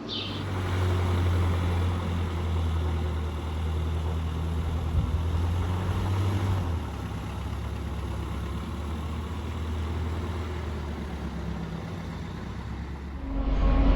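An old car engine runs steadily with a low, constant hum, heard from inside or near the vehicle for a sustained stretch, quieting slightly midway and swelling again at the end, with no talking.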